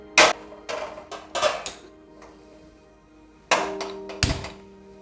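A pressure cooker set down on a home kitchen stove while making drumstick masala: a handful of sharp metallic thunks and clatters of pot against burner, loud and close, separated by short quiet gaps, with no talking.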